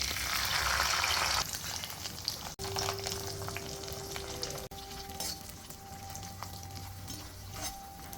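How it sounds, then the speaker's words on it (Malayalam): Raisins and cashews frying in hot ghee for Onam ada pradhaman payasam, producing a continuous close sizzle with occasional stirring clinks and two sharp taps on the pan, without any talking. "നെയ്ക്കകത്തോട്ട് കുറച്ച് മുന്തിരിങ്ങയും അണ്ടിപ്പരിപ്പ് ഇട്ടിട്ടൊന്ന് നന്നായിട്ടൊന്ന് മൂപ്പിച്ച് റെഡിയാക്കി എടുക്കുക"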